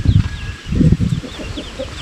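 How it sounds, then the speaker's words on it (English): A small chicken clucks in short bursts close by, beside a home being readied for move-in, with faint bird calls in the background. "Hey little chicken, who showed you how to jump up there?"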